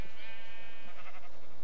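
A short, close, wavering bleat from a Minecraft sheep, followed by a softer echoing trail, loud and clear with no talking over it.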